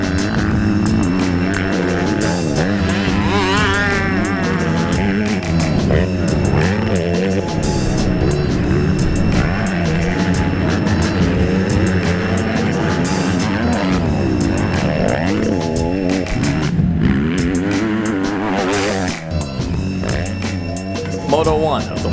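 125cc Kawasaki motocross bikes scream past in a class race, engines rising and falling as riders shift and pass, loud and continuous, with a commentator talking throughout.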